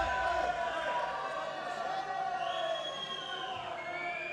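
A Croatian crowd jeers and boos a decision in the women's -67kg final at the 2018 World Taekwondo Grand Prix in Moscow, a loud, steady roar of disapproval filling the hall throughout.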